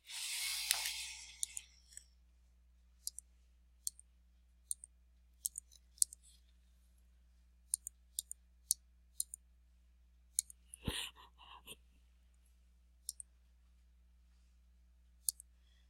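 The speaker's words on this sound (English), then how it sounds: "I'm going to go type it in my calculator." Sharp plastic clicks of calculator keys being pressed one by one at an irregular pace, close and distinct against near silence, after a brief rustle at the start.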